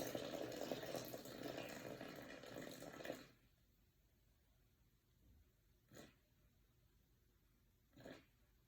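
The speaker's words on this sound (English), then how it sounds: "I can reset the scale and I can put 180 grams of water." Water pours steadily from a tap into a bowl on a kitchen scale for focaccia dough, a close hissing stream lasting about three seconds that stops abruptly, followed by quiet with a couple of faint knocks.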